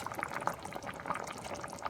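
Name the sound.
water boiling in a pot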